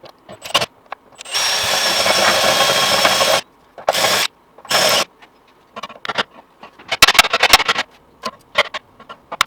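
A power drill bores out spot welds on the inner wing panel of a crash-damaged Ford Fiesta ST150, loud bursts of whining metal drilling, one long run then several short stop-start bursts close by.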